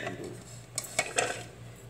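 Chilies drop into a blender jar with a few light clinks and taps, close and fairly quiet, over a low background hum.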